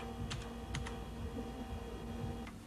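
A username and password typed on a computer keyboard, a few quiet separate key clicks over a low steady hum.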